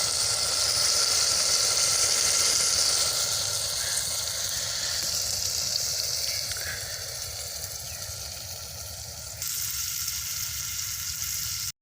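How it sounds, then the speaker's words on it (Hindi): Tomatoes, chillies and spices sizzling in ghee in a pan, a steady, close hiss of frying that eases somewhat partway through, with no talk. "टमाटर मिर्च और दीगर मसालों को दोस्तों अच्छी तरह भून लेंगे।"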